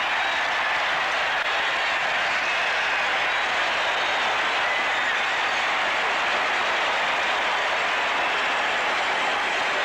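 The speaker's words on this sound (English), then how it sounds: "And listen to the crowd." An NFL stadium crowd at a 1981 Bears–Packers game in Green Bay roars after a fourth-down turnover, a broad, steady wall of cheering that holds loud and unbroken throughout.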